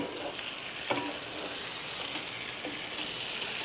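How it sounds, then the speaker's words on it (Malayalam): Chicken vindaloo sizzles in a pan over a medium flame with a continuous moderate frying hiss and a few faint stirring scrapes, no voices. "ഇത് നമുക്ക് നന്നായിട്ടൊന്ന് മിക്സ് ചെയ്ത് കൊടുക്കാം."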